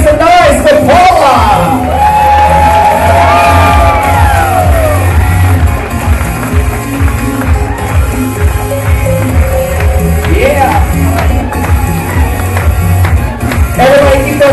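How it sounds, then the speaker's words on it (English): Wedding reception guests cheer, whoop and shout loudly as the bride's mother makes her entrance, a dense crowd roar with a voice calling over it, continuous and close. "I need a nice loud round of applause for our beautiful bride's mom in the house tonight"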